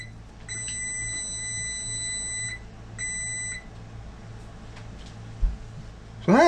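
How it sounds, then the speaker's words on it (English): A kitchen timer alarm goes off during a yeast-proofing test with old active dry yeast, giving two sustained electronic beeps, the first long and the second short, over a low steady hum, with a brief clatter near the end. "Okay, well you can hear that the timer's going off."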